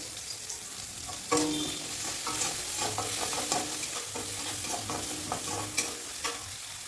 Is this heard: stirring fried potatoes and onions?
yes